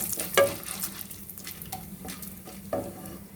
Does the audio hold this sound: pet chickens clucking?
no